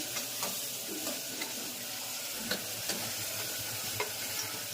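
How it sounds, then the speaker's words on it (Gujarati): Coriander-cumin powder and salt sizzle and crackle steadily in hot oil for tempering, a soft continuous hiss with occasional light taps of a stirring spoon. "મસ્ત મજાનો વઘાર થઈ ગયો છે"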